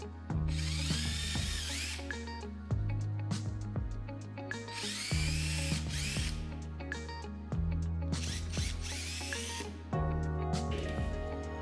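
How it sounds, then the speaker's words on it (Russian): Power drill boring a hole through the plastic valve of an empty foam spray can, short bursts of whining spin repeated about five times with brief pauses between, close and fairly loud. "В клапане, через который поступала пена, нужно просверлить сквозное отверстие"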